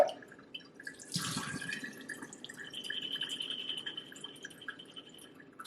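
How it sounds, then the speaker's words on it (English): Pea sprouts rinsed with fresh water after an eight-hour soak: a faint trickle and splash of running water into a container, with a brief louder pour early on, then softer dripping flow. "rinse them with fresh water."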